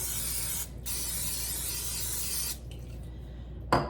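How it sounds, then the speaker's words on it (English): Cooking spray hisses from a can into a slow cooker in two long bursts, close and steady, followed by a short final spritz. "I'm gonna go ahead and spray"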